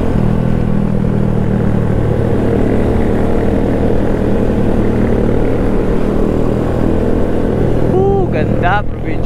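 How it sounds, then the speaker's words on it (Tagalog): Loud motorcycles ride past on a provincial road, a continuous heavy engine drone that fills the whole stretch and ends with a couple of brief rising revs. "maingay lang talaga yung motor namin"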